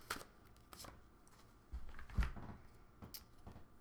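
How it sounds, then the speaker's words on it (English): Tarot-style guidance cards are shuffled and one is pulled, giving soft riffling and flicking bursts with a few louder slaps, close and quiet with no talking. "we'll go ahead and pull a numerology guidance card for that"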